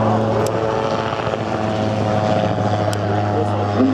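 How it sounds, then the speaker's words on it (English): A twin-engined aircraft roars overhead at a seaside air show, a loud, steady drone that fills the whole stretch without fading, while a commentator talks over it. "Twin-engined aircraft."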